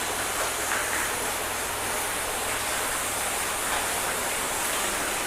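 A garden hose sprays water steadily over a car during a rinse, a dense, continuous close hiss of spray spattering on the paintwork with no pauses and no talk.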